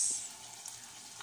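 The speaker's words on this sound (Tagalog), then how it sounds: "Gisa natin yung beef giniling." Ground beef sautés in a pan for a Filipino-style cheesy sauce, giving a steady hiss and sizzle that's loudest at the start and then settles into a softer, continuous crackle with no talking.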